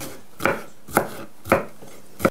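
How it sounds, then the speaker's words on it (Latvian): A knife chops an onion on a board in four sharp, evenly spaced thuds about half a second apart, close and clear, with no talking. "vispirms sasmalcinu sīpolu"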